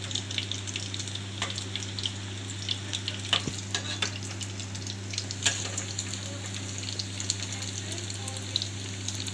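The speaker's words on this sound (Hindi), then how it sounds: "देखिए फ्रेंड्स, बहुत अच्छे से फ्राई हो गए हैं।" Jalapeño cheese poppers deep frying in oil in a kadai, giving a steady, close bubbling sizzle with crackling pops throughout and a constant low hum underneath, no talking.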